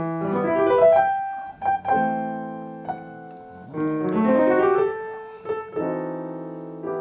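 Piano plays a Bach partita line without pedal, separated notes and short gaps between phrases, clear and close, no voices.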